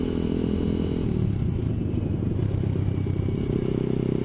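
A ZS190 Grom clone motorcycle engine drones steadily while riding, a loud, close, low rumble with rattly clatter through the whole stretch.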